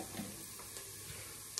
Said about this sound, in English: The onion, and I've got the coriander stems in there just sizzling away.